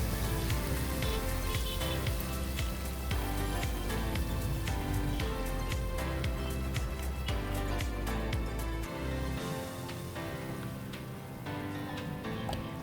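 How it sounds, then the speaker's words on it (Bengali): Paneer pieces fry in hot refined oil and ghee with a dense, continuous crackling sizzle full of rapid pops, loud and steady, easing slightly toward the end. "তেল ও ঘি গরম হলে ওর মধ্যে পনিরের টুকরোগুলো দিয়ে হালকা সোনালি করে ভেজে"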